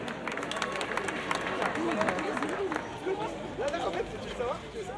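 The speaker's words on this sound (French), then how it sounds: "merci d'applaudir Timothée et son guide" A sports audience applauds a visually impaired athlete and his guide, steady clapping mixed with crowd chatter and voices throughout.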